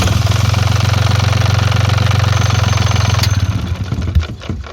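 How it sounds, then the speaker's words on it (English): Engine started by bridging the terminal with a screwdriver runs at a steady, loud, fast-pulsing idle for about three seconds, then cuts out, with a few clanks and a clatter as it stops. "If I slide the screwdriver over that bolt and touch that blade terminal,"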